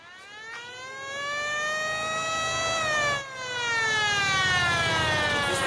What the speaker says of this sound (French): J'ai récupéré une sirène de pompier dans une casse auto.